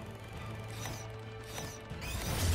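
A slot-machine wheel spins in the video game Lost Planet 2, giving a steady mechanical whir and ratcheting clicks with small clatters that build toward a louder finish, with no voices.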